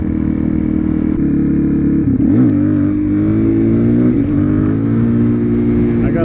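A motorcycle engine runs loud and close throughout, its pitch dipping and rising as the rider shifts gears, with no talking.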